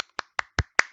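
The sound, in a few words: clapping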